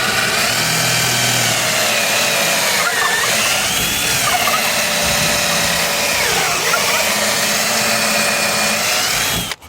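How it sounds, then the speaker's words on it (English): A power drill bores a pocket hole in scrap wood board, a loud steady whine with slight pitch dips as the bit loads, running close for nearly ten seconds before stopping abruptly. "Now I can just simply take my drill and drill out my hole"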